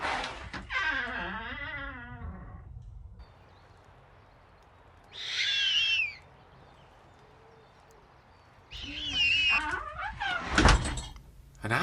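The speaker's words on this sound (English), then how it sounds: "An owl?" An owl hoots in two separate calls in an audio drama of Hansel and Gretel, rising and wavering cries that stand clear over a quiet night backdrop, with a spoken voice and a thump at the start and end.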